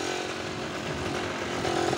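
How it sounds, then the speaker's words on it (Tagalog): A motorcycle engine idles close by with a buzzy, steady drone and slight rise toward the end, running alone without talk beside a roadside lot in Santa Maria, Laguna. "naandar pa nga ang motor"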